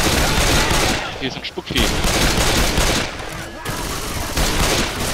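Dense, continuous gunfire from the zombie shooter Left 4 Dead, with rapid loud bursts that drop out briefly twice before resuming, while a voice speaks over the shooting.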